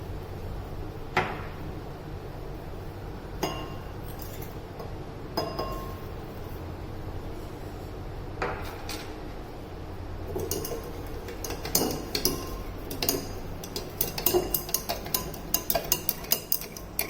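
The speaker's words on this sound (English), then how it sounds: "Gently stir it and leave it for 15 to 20 minutes." A lye mixture stirred in a glass container, with soft intermittent clinks and taps of the utensil against glass over a low steady background, the clinks growing more frequent toward the end.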